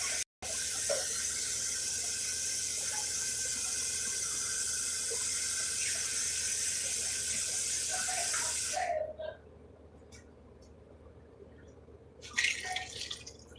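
Tap water pours steadily as a second cup is added to a pot of chili, a broad continuous rushing hiss for about nine seconds before it stops, followed by quieter drips and faint kitchen clatter.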